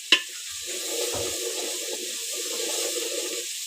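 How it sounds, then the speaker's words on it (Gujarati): Water is poured into a simmering fresh fish curry in a Gujarati home kitchen: a short click, then a steady, close splashing hiss lasting a few seconds, with no voices. "ઉપરથી આપણે થોડું પાણી નાખી દઈશું એમાં"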